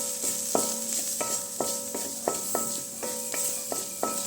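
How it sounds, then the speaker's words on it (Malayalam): Onions being stirred in a pan with coriander and turmeric powder: a steady run of spoon scrapes and taps against the metal over a soft sizzle, close and alone. "മല്ലിപ്പൊടി കുറച്ച് മഞ്ഞൾപ്പൊടി ചേർത്തിട്ട് നന്നായിട്ടൊന്ന് മിക്സ് ചെയ്ത് കൊടുക്കാം"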